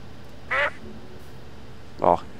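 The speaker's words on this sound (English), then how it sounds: "Oh, a duck! Hello, duck!" Duck quacking in a video game, two short loud quacks about a second and a half apart against quiet background ambience.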